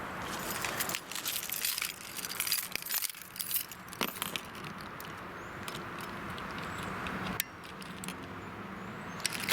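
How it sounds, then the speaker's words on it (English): Car keys for an Infiniti sedan (M37, M56 or Q70) jangle and clink in bursts for several seconds, close by and fairly loud, with short metallic rattles and a few sharper knocks over a soft background hiss. "Let me get my keys."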